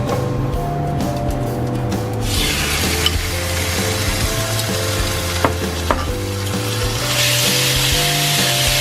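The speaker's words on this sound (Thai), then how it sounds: "เราก็ผัดผักจนให้มันเริ่มนิ่มนะคะทั้งสองอย่าง" Vegetables stir-fried in a pan until softening, a steady close sizzle with scraping stirs and a few sharp clicks of a utensil against the pan, continuing without talk.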